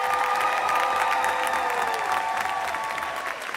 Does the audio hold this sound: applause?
yes